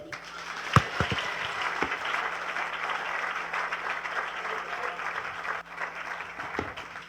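A church congregation applauds, a sustained wash of clapping with a few sharp louder claps near the start, steady and full throughout, with faint voices underneath.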